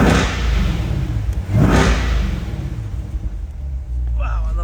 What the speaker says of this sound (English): I'm gonna give you a couple revs for you guys